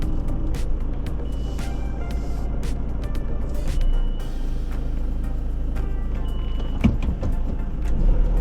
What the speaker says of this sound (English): Got a bit of traffic at the moment